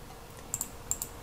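Two pairs of quick, faint clicks from a computer mouse being used in ArchiCAD design software, crisp and close against a quiet background.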